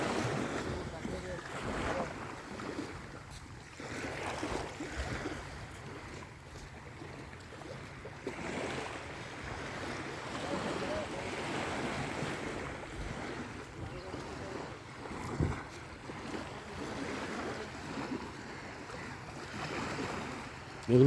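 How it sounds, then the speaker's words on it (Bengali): Fishing trawlers on the open sea off Saint Martin's, with a soft continuous wash of waves and wind buffeting the microphone, and a faint engine hum beneath it. "এগুলো হচ্ছে মাছ ধরা ট্রলার"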